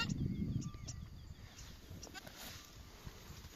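A goat bleats a few times up close at the start around the time of giving birth, then quiets, leaving faint rustling and soft background sounds.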